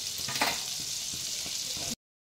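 Butter and white oil with whole garam masala spices frying in a kadai, a steady close hiss of sizzling fat with small crackling pops, cutting off abruptly at the end.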